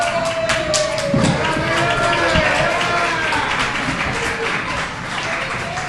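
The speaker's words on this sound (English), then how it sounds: "Give yourselves a big round of applause." Applause and cheering from parents and players at a youth softball ceremony, a steady wash of clapping with shouting voices mixed through it and a few thuds.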